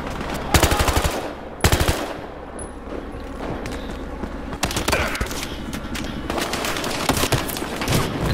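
Automatic gunfire from an online Battlefield Hardline multiplayer match of cops against bank robbers, with loud rapid bursts of machine-gun fire and scattered shots over a continuous dense battle din, no voices.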